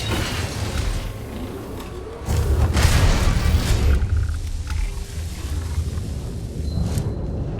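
Gunfire from a robot shooting through walls in the video game Starfield, a dense, rumbling burst of booming impacts and mechanical noise that swells midway and carries on loud and continuous.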